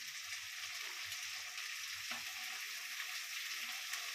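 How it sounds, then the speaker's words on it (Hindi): Capsicum, carrot, beans and other vegetables frying in a pan for chow mein, a steady close sizzle with soft stirring and no talk. "सारा सब्जी को अच्छा से भून लेंगे।"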